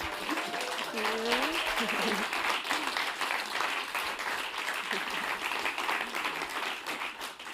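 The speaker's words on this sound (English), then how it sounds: "a round of applause for Misty Copeland" Audience applause for ballerina Misty Copeland at a Davos 2025 event, a full, sustained round of clapping from a sizable crowd, with some voices audible early on.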